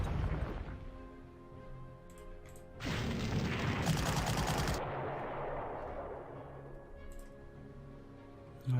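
Artillery salvos in the WWII strategy game Panzer Corps, Narvik mission: a dense burst of heavy, crackling gunfire and explosions erupts over game music, sustained for about two seconds before fading back to the music bed.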